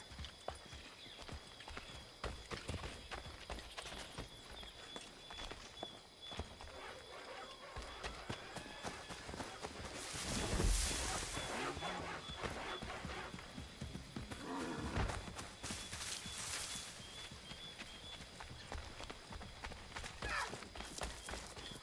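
Horse hooves clip-clopping on a road in Assassin's Creed III, a steady quiet trot heard alongside ambient game sounds and brief swells of other noise.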